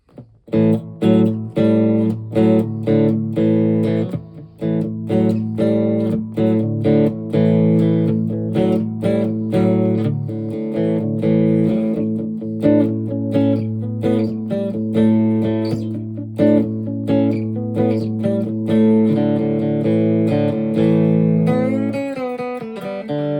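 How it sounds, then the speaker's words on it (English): A Fender American Deluxe Telecaster on its bridge pickup plays a bright, twangy riff of rhythmic chords and single notes, loud and close, with a brief sliding note near the end. "now we go to the much more kind of traditional kind of Tele bridge pickup"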